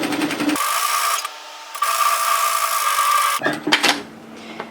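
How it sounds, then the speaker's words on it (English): A sewing machine stitches along the folded hem of a stretchy ribbed hoodie with a 5 mm stitch, a steady close whirring run of about three seconds framed by shorter start-and-stop bursts and handling rustle. "I'm going to stitch it on the fold side, and I'm going to stitch it parallel to the first line of stitching"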